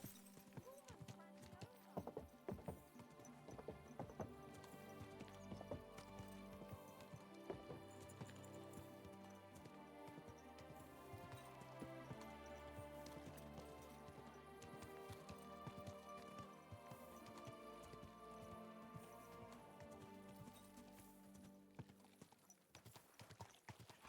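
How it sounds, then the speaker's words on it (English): Horse hooves clip-clop in the medieval game Kingdom Come Deliverance 2, a steady trotting rhythm running under a dense bed of music for the whole stretch. "Don't you know how to keep your horse under control?"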